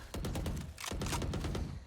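Rapid bursts of gunfire from a tactical shooter video game spray onto double doors, heard as dense, loud repeated shots with a short pause between two volleys and no talking.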